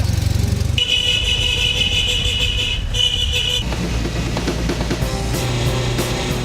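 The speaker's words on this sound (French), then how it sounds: "L'important c'est le petit coup de klaxon" A Citroën 2CV at a classic-car camping weekend sounds a long, steady, nasal horn blast, then a shorter second toot, over engine and vehicle noise close by.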